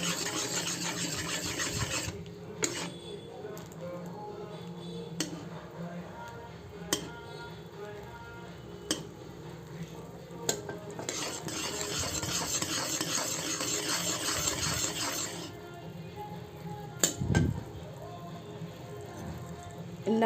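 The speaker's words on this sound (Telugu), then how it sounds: "నెయ్యి వేసుకొని కలిపేసుకున్నాం." A cashew sweet mixture with ghee is stirred in a pan, giving quiet scraping and rubbing strokes with occasional sharper knocks of the spoon.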